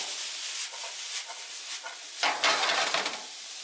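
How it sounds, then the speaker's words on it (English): Rice being flipped and stirred in a pot while cooking saffron rice, a soft continuous scraping and sizzling that swells into a louder rustling toss near the end. "And then now I'm going to flip it so this comes in."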